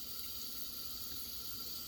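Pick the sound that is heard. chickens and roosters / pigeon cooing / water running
water running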